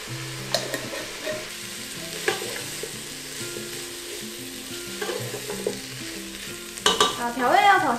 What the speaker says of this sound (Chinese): 我们就加入酱油、胡椒粉跟五香粉，然后一样把它炒香